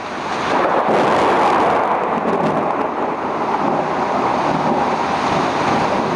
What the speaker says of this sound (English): this is certainly a decent wind